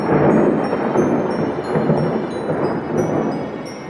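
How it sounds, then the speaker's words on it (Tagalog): Heavy thunder rolls loud and continuous through a thunderstorm, a deep sustained rumble with rain noise and no talking. "Nagising si Marge sa lakas ng kulog"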